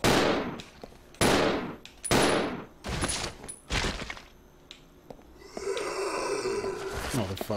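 Loud, sharp gunshots from the survival horror game Resident Evil 0, fired singly at irregular intervals with short echoing tails, followed by a steadier rumbling game ambience toward the end.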